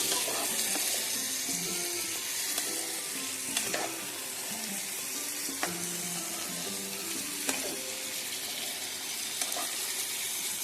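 Jackfruit curry masala sizzles and fries steadily in a pan after a spoonful or two of water is added, a continuous loud hiss with occasional stirring clinks and scrapes throughout.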